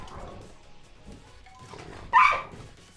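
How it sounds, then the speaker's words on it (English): Two dogs barking indoors in a home, a few yips and whimpers scattered through quiet, then one sharp loud bark near the end, close by. "Apologies, my dogs are morons."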